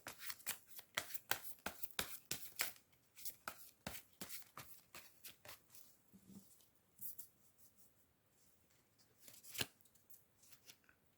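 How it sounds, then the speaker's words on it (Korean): Tarot cards being shuffled and drawn in a close run of crisp riffles and flicks, dense at first and then thinning to sparser card slaps and a final sharp snap near the end, with no talk. "마지막으로 조언 카드 한 장 더 뽑아 볼게요"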